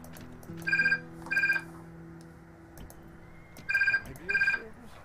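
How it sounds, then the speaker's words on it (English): A telephone rings in four short tonal bursts, arriving in two pairs, each a bright trilling electronic ring heard clearly over a low background hum, with faint talk in between. "Every time I start recording a video, phone rings. So much phone ringing."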